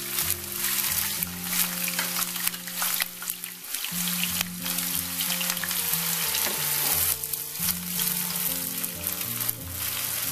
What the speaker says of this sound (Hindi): सबसे पहले तो मैं प्याज को करूँगी ब्राउन।